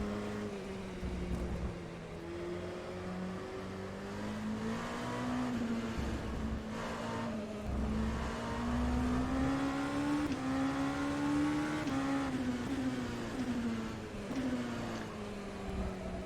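A Ligier JS P217 LMP2 race car's Cosworth engine in rFactor 2 drones and revs continuously at a wet Spa-Francorchamps, the pitch rising and falling through gear changes, loud and steady with no voices.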